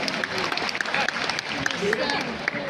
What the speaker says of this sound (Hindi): तो एक बार जोरदार तालियां इसकी लीडरशिप के लिए